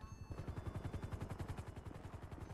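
Rapid automatic gunfire in a roleplay video game, a fast, steady burst of evenly spaced shots lasting the whole stretch, heavy and booming low, at fairly quiet overall level.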